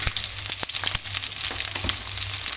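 Tempering spices crackle and sizzle in hot oil for semiya upma, a steady dense frying hiss close up with scattered sharp pops throughout. No voices.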